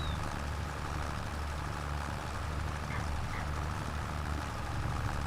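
A tractor engine in Farming Simulator 25 drones steadily from behind the machine, a constant low idling hum with a buzzy mid-range layer that does not change through the stretch.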